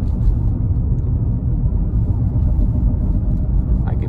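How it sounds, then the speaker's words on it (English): A worn wheel bearing on a 2015 Ford Explorer, heard from inside the moving vehicle during a turn: a steady, loud, low rumbling drone that lasts throughout. "Hear that wheel bearing start to make a little noise."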